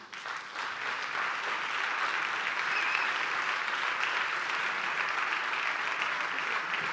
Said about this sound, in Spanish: Recibimos con un fuerte aplauso a Ramón Cid.